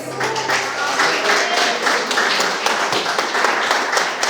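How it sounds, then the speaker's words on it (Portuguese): A church congregation clapping hands during worship, dense rapid clapping that stays loud and steady for several seconds, with music and voices blended underneath. "Que as palmas louvam o Senhor em nome de Jesus."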